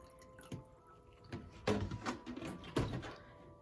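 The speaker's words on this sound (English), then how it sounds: "you take some water and you pour it in there" Water poured by hand into a cup, heard as a few quiet splashing bursts with light clinks in a hushed indoor space.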